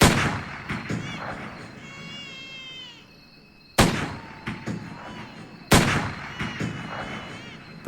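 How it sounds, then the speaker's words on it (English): Three sharp gunshots crack out before daybreak over the jungle around the remote village of Hathine, spaced several seconds apart, each trailing into a long echo. Faint animal calls chirp in between. "before daybreak, 3 gunshots echo across the jungle"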